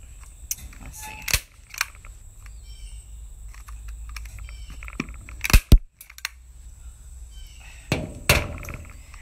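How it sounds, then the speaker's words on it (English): A new staple gun firing into upholstery on repurposed seating, sharp isolated clacks spaced irregularly with a few louder double snaps, close up against a quiet background with handling rustle and no speech. "I bought a new staple gun and I don't know how it works."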